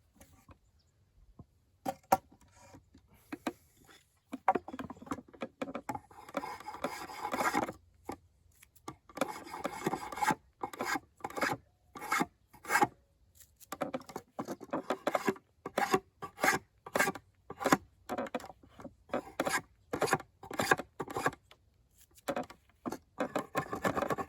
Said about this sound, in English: I'll just kind of finesse the profile with this cute little straight and curved blade spoke shave